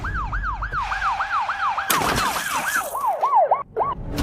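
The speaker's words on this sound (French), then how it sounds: "Vous avez vu ça? C'était une ambulance" Ambulance siren wailing in rapid, repeated up-and-down sweeps, loud and close throughout, with a burst of broadband noise partway through as the siren continues.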